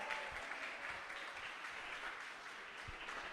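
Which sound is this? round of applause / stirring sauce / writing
round of applause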